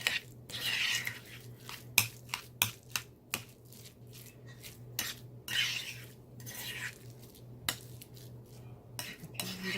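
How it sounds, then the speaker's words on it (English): Chopped onion for taco night gets mixed in a bowl, with a utensil scraping and clinking against the dish in irregular close taps and stirs, fairly quiet and without talking. "Kind of mix up the onion a bit in here."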